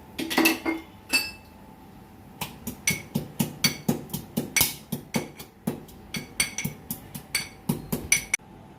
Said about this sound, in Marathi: तीन हिरव्या मिरच्या आणि थोडंसं आलाचा तुकडा हे आपल्याला ठेचून घ्यायचं आहे